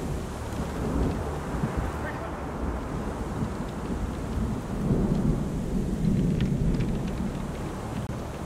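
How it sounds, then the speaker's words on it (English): Thunderstorm ambience in the video game Deliver Us Mars, a continuous dense rush of heavy rain and wind with low rumbling thunder swelling midway, steady and enveloping. "The storm is getting worse, Rupert."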